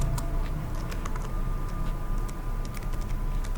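Fast, light key clicks from typing on a computer keyboard, scattered over a steady hum of background noise with no talking.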